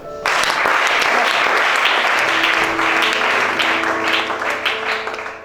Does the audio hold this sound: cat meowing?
no